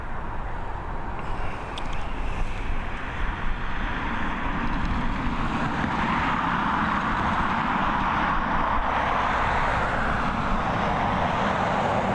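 Emirates airliner at Dublin Airport after a go-around: a broad, continuous jet roar fills the air, steady and fairly loud, swelling slightly as the aircraft passes at a distance.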